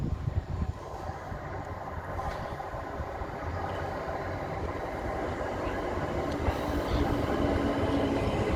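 A train passes through a railway station with a steady, loud rumble and rolling roar that builds slightly over several seconds, with no talking.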